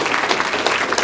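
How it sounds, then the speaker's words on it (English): A small gathering at a farewell for departing sisters gives a brief burst of clapping, close and continuous for about a second. "So, round of applause."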